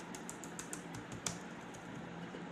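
Keys clatter at a steady, quick pace on an ASUS ROG Strix GL702VM gaming laptop keyboard, faint and close with a soft hiss beneath and no voices.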